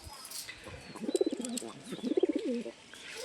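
Two male pigeons cooing nearby in two rolling, throaty bursts, each a quick series of pulsed coos, with faint chirps and background noise between them.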